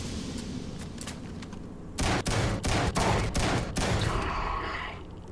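Guns firing in Starfield: a quiet lead-in, then a loud, close cluster of about six or seven heavy shots in quick succession, trailing into a fading echo.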